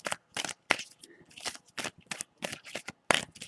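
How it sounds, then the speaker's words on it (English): Tarot cards are shuffled by hand in a quick series of crisp riffling bursts, close and alone with no talk. "Let me shuffle it one more time."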